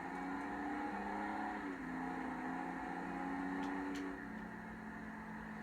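A big video game truck engine, a Vapid Sandking SWB, drones steadily, rising and settling in pitch as it revs, with a brief click partway through; no voices.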